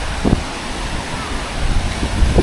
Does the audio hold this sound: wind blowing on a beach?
yes